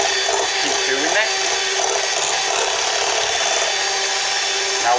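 A whisk works through chocolate chip oat and raisin cookie dough in a bowl, a steady continuous scraping and swishing at close range with no breaks.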